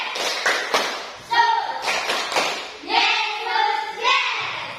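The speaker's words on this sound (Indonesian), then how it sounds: "Tepuk Yesus" A group, apparently children in a classroom religious lesson, claps hands in short rhythmic bursts, alternating with chanting voices and sung phrases at moderate loudness.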